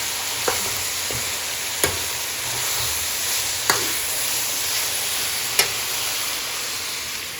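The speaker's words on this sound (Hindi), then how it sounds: "और ये प्याज भून लूँगी पहले, कढ़ाई में डाल दूँगी मैं।" Onions fry in a kadhai with a steady close sizzle, while a spoon scrapes and taps the pan about four times at irregular intervals; nobody speaks.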